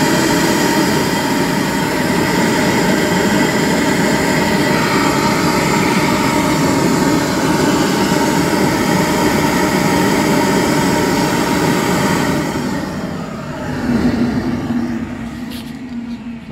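Flow bench pulling air through an exhaust manifold on a Mission Impossible 318 engine project, a loud steady blower roar with a constant hum that holds for many seconds, then drops and sputters near the end.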